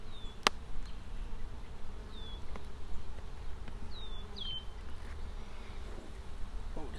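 Honey bees from a swarm buzz faintly around a beehive with capped brood and honey frames, a low steady hum with a few brief higher passes of individual insects flying close.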